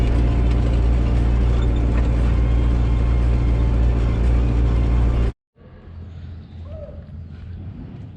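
A tractor engine idles loud and close with a steady low drone, then cuts off abruptly, leaving quieter outdoor background noise on a farm.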